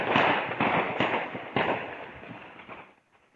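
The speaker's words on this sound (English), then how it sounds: "Residents, they woke up to a hail of gunfire." Rapid bursts of gunfire crack along a street at night, several sharp reports in quick succession then a decaying echo, fairly distant and alone without voices.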